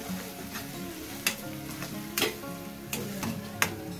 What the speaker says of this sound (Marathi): लसूण मस्त ब्राऊन होईपर्यंत फ्राय करून घ्यायची तिला